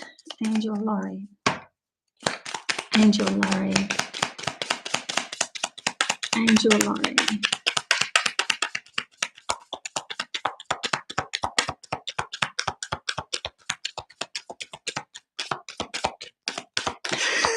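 Tarot card deck being shuffled by hand, a long run of quick crisp card riffles and taps, close and fairly loud, with a voice talking briefly near the start.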